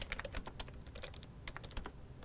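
Rapid, faint clicking of keys on a computer keyboard as a search term is entered on a university website, irregular close taps with no voice.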